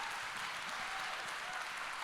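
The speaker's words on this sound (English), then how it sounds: "Let's give them a round of applause." Audience at a Hulu Pam & Tommy festival panel applauding, an even, continuous wash of clapping from a crowd, heard alone without talk.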